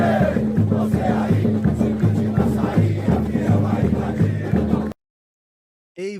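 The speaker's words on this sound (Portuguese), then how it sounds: "Vamos ver aqui o canto da torcida do Corinthians." Corinthians football supporters chant loudly in a tense stadium crowd, a dense rhythmic roar of many voices that runs steadily for about five seconds, then cuts to silence before a brief unrelated sound at the end.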